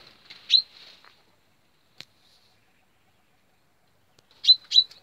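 An injured quail gives short, high chirps close by: a quick pair at the start and another pair near the end, separated by near silence and a single faint tick.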